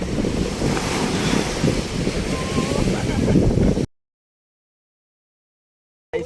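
Sea waves wash onto the shore at full tide near Shiyal Bet, a loud continuous roar of surf mixed with heavy wind buffeting the microphone, then cutting abruptly to silence.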